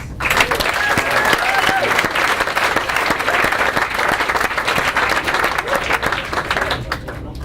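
Audience applause at a gala, a dense, sustained wash of many hands clapping close and loud throughout, slowly thinning toward the end.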